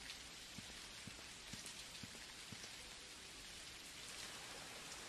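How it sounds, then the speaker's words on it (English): Heavy rain falling in an Unreal Engine video game scene, a faint, steady hiss of downpour with a few soft, regularly spaced drop ticks early on. "it's raining a lot in terms of quantity, but it looks very realistic"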